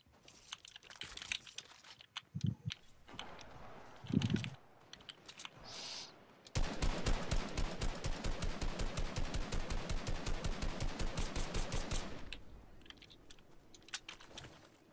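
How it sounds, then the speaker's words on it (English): Rapid automatic assault rifle fire from the Fortnite video game, a dense, even burst of shots lasting several seconds in the middle, with quieter game sounds before and after. "It takes an entire mag of green AR."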